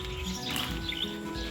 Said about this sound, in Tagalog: Ayan, nandyan yung ibang ibon.